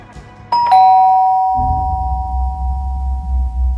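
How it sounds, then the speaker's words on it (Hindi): A doorbell rings nearby with a two-tone ding-dong whose tones linger, followed by a low rumbling background. "दरवाजे की घंटी बजी।"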